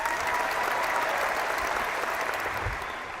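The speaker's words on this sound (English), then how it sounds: "I'll wait for the applause to die down" A studio audience applauds in a thick, sustained wash of clapping that holds steady, then begins to thin and fade toward the end.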